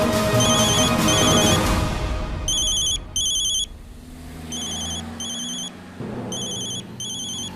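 A telephone rings in repeated paired bursts of electronic trills, loud and close, over a low background bed.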